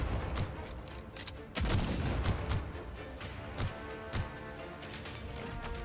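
Rapid bursts of gunfire in the Girls Frontline video game, including sniper shots, with sharp repeated cracks and thuds at irregular intervals over dense battle noise, loud and close.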